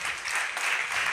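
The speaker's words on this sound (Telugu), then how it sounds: "గట్టిగా ఒకసారి చప్పట్లు కొట్టండి" A congregation at a Christian sermon claps loudly, a dense, continuous burst of applause filling the hall for about a second.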